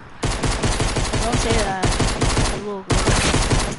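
Rapid, loud gunfire bursts from a shooter video game, dense repeated shots in a near-continuous fusillade with brief gaps, while players talk over the action.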